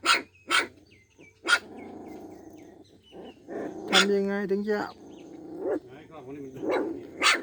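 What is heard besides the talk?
dog barking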